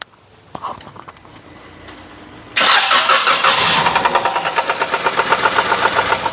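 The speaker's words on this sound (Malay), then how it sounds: "boleh tolong start enjin" At a workshop, a Perodua Axia with a suspected connecting rod bearing knock cranks and fires after a quiet stretch, then settles into a loud idle with a steady rhythmic knocking pulse.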